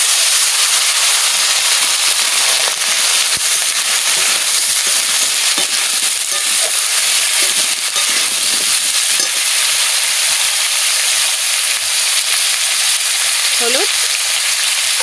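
Vegetables frying in a pan for a fish curry with carrot, cauliflower and potato give off a loud, continuous hiss and sizzle, with occasional faint stirring clinks.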